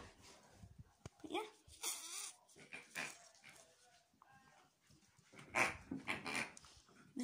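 A dog whimpers and pants in bursts between voices talking, close by and moderately loud, with short sharp squeaks and breathy huffs scattered through.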